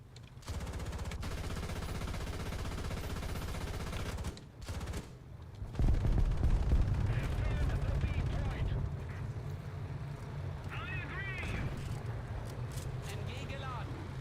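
Gunfire and engine noise in the tank game War Thunder: a dense, continuous rattle of fire, a brief drop, then heavy rumbling bursts, with speech in the background.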